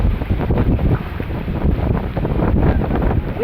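Strong, gusty wind from Cyclone Remal roars and buffets close to the microphone, with a dense rushing wash of heavy rain, continuous and loud throughout.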